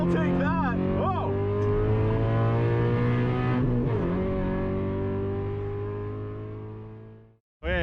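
Porsche GT3 on a wet track, its engine droning loud and steady with a rising pitch sweep early on, holding near and continuous before cutting off abruptly at the end.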